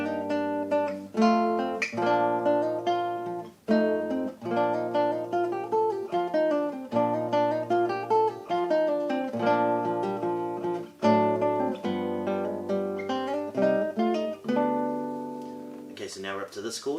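Classical guitar plays a passage from Albéniz's Sevilla, a steady flow of plucked, ringing notes and chords over about seventeen seconds, close and clear with no talking.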